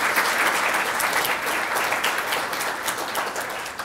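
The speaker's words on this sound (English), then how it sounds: "So let's have a round of applause for them." Members at an annual general meeting giving a round of applause for staff, a loud, sustained burst of many hands clapping with no speech over it.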